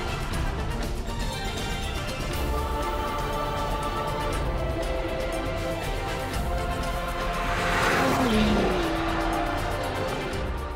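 A big Ferrari Roma sports car driven hard in dynamic mode, engine roaring steadily through the gears with a rising surge and brief tire squeal near the end, loud and close, without talking.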